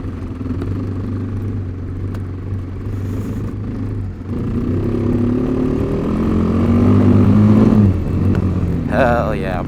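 A Kawasaki KLX250 dirt bike engine drones and revs as the bike rides through a puddle, its pitch rising and falling, with a brief burst of wet noise near the end.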